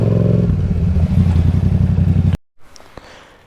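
A 2019 Yamaha MT-07 twin-cylinder motorcycle with a decatted exhaust, rumbling loud and close with a deep, pulsing burble that cuts off abruptly, leaving faint background noise.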